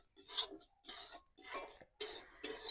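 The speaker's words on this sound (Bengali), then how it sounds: "সুজি লাল লাল করে ঘি দিয়ে ভেজে নিলাম" Semolina being stirred as it fries in ghee gives a faint dry scraping in four or five separate short strokes, each a brief raspy rub with gaps between.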